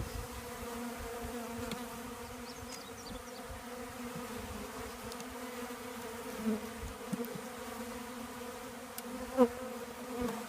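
A steady drone of honeybees buzzing around a package being installed into a hive, a dense continuous hum close by with a few brief knocks near the end.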